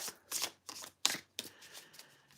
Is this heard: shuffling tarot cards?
yes